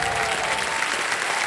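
Studio audience applause on a TV quiz show fills the short stretch as a steady, dense wash of clapping throughout, with no gaps or build.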